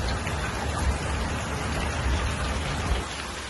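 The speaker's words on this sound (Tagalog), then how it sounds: "Ngayon po talaga ay maulan." Heavy rain pours steadily during Typhoon Jasper, a dense, loud, continuous wash of drops drumming on surfaces with no other sounds.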